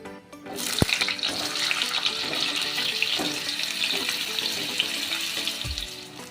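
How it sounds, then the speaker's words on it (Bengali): Pointed gourd (potol) pieces frying in hot oil in a wok, a steady close sizzle and crackle running throughout, with a couple of brief clanks of the pieces going in. "এবার আমি এই পটলগুলো ভেজে নেব।"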